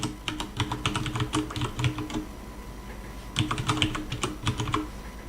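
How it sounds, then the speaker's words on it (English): Steady mechanical keyboard typing on a Corsair STRAFE RGB with brown switches, a quick run of clicky keystrokes, a short pause, then another burst, close and clear with no voices. "this is what a brown keyboard sounds like"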